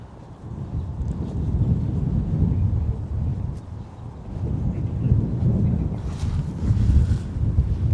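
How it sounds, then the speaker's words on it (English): Wind on a cold Toronto evening outdoors between Riverdale and downtown rumbles and buffets the microphone in loud, low gusts that swell and ease, with faint city sounds underneath. "We just feel that wind breezing in."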